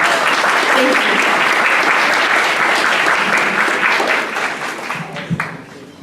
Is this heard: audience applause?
yes